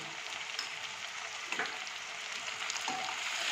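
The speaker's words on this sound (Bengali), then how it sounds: "এই পেঁয়াজের সঙ্গেই ভেজে নিচ্ছি।" Onions and potatoes frying together in a pan for a Bengali mutton curry, giving a soft, continuous sizzle with faint crackles and an occasional scrape, heard close and fairly quiet with no talking.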